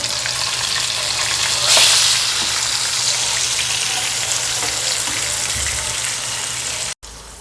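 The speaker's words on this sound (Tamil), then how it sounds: "நம்மளோட விரால் மீன் ஃப்ரை ரெடி ஆயிடுச்சு" A large murrel fish fries in a pan with a steady, loud, close crackling sizzle and a brief brighter burst of spattering near the start, continuing alone without speech.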